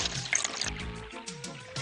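Water pours and splashes in an animated cartoon as the characters are hosed down, a brief loud gush and trickle with bubbly movement, no one speaking over it.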